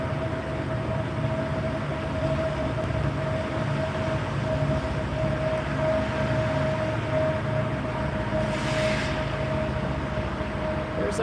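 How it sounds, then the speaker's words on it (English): A Burlington Northern freight train passes through an Englewood neighborhood as a steady, continuous rumble with a thin sustained whine, moderately loud and unbroken for the whole stretch, with no talking. "Runs freight trains through here."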